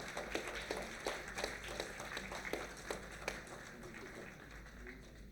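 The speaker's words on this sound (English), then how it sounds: "Round of applause from all of you, ladies and gentlemen." An audience at a panel discussion gives a modest round of applause, with irregular individual claps standing out over a low room hum.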